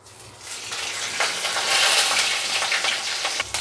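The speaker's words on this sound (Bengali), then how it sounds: "এবার একটু সাদা জিরে ফোড়ন দেবো।" White cumin seeds crackle and sizzle in hot oil for a potol dalna, a dense steady hiss with faint popping that swells slightly midway and holds close and continuous, no voices.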